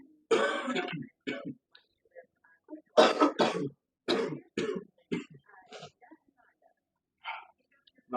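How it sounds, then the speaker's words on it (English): Several sharp coughs and throat-clearing bursts come in short clusters at close range, separated by brief pauses, with a few softer breathy sounds in between. "I got a cool little cough."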